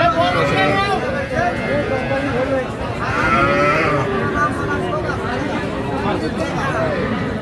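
A young bull calf lows repeatedly amid the hubbub of a crowded cattle market in Raniganj, with people talking all around.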